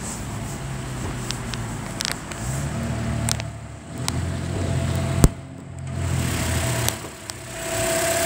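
A 2016 Toyota Corolla's 1.8 liter engine idles under the open hood with a steady, smooth low hum, heard up close alongside a few light clicks and knocks.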